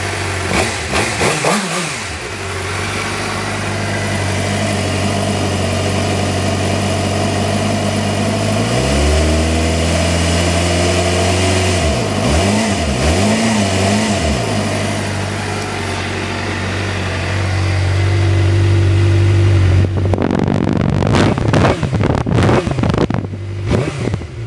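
Motorcycle engine idles loud and close, then revs up and down in a few wavering bursts before settling back to idle and finishing with a louder, rougher throttle surge.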